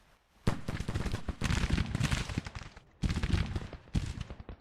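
Cannon and gunfire crackle across a Civil War battlefield in the strategy game Grand Tactician: dense, overlapping rifle volleys and booming shots come in several waves, loud and continuous, with brief lulls between bursts.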